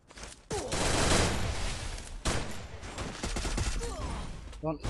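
Rapid automatic gunfire rattles from a shooting video game in dense sustained bursts, loud and close, with a short gap before the firing resumes.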